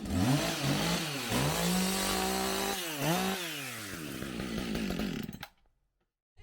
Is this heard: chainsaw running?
yes